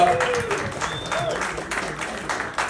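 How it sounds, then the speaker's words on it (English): An audience at a comedy showcase for Monarch Market applauds in a dense, steady wash of clapping that continues throughout, with voices calling out over it. "So give it up for y'all for just coming out through this cold. Clap it up, clap it"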